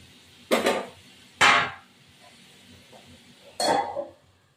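A lid is set onto a pan of lotte fish cooking on the stove, making three bright metallic clanks spaced a second or two apart, close and clear, with no voices.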